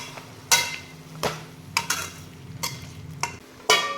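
Tomatoes go into a pan for sambar and are stirred, with sharp spoon knocks and clacks against the pan at irregular intervals over a low cooking hiss. No talking.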